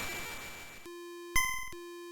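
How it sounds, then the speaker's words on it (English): Electronic tones from a video game: a noisy burst gives way to a pure steady tone, then a louder buzzing chord of stacked beeps, then the single tone again. "maybe kids can't hear these audio tones"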